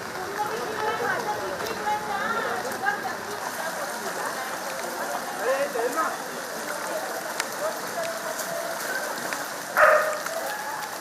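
Heavy rain falling steadily in Belagavi, a continuous hiss of water on surfaces throughout with a brief louder burst near the end, no talk.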